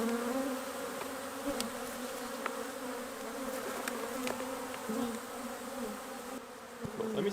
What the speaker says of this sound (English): I'm totally in awe right now of these bees and the sound